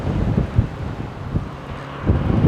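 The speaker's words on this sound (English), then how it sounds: "You hear the wind is just starting to come up." Wind rises and gusts against the microphone outdoors as a weather front moves in, a steady rough rumble with a few louder buffets.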